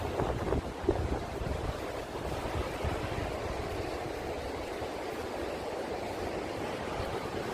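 Powerful waterfall on the Dalälven river near a hydroelectric plant, where heavy rushing water gives a steady, loud, broadband roar that continues without a break and carries no talk.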